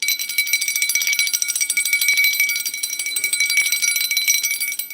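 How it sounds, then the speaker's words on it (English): A handheld rodeo bell rings continuously in a rapid, bright jangling rattle, close and fairly loud, with no voices, as part of a spiritual cleansing of a space. "Let's do a bell ring, I think."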